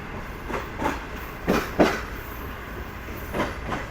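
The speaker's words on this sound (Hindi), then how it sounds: "वहाँ से उतरती हुई हमारी पाकिस्तान की एक बेहतरीन ट्रेन" The Pak Business Express, a Pakistani passenger train, rolls through the night with a steady rumble and periodic clickety-clack wheel bursts over rail joints, moderately loud and without voices.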